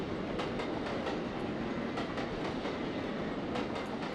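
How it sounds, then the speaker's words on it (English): A steam train in the Trainz Plus simulator rolls past on a Cornish branch line, a steady loud rumble with rhythmic clickety-clack of wheels over rail joints throughout. "Get the train going past."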